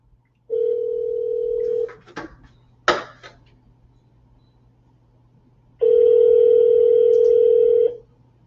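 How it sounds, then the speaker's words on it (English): A telephone rings through a speakerphone and goes unanswered: two long, steady ring tones separated by a few seconds of quiet with a couple of small clicks and knocks in between. "Looks like they're not going to pick up the phone."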